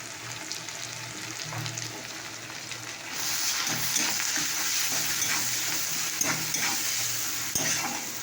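Steady sizzling of onions frying in hot oil with salt and turmeric, growing louder partway through, with occasional stirring scrapes in the pan; no one speaks.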